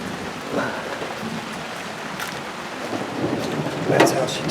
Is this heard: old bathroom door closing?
no